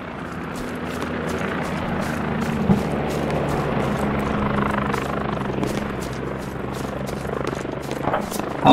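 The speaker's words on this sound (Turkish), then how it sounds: "Helikopter dönüp duruyor havada." A helicopter circles overhead in a squad-based video game, its rotor chopping in a rapid steady beat under a low continuous drone, fairly distant and sustained, with faint game sounds around it.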